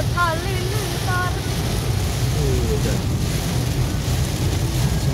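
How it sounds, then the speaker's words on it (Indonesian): Strong wind roars steadily through a heavy thunderstorm with rain on a rural road, a constant loud rush with low rumble throughout, while a voice speaks briefly near the start. "Hujan badai angin ribut halilintar."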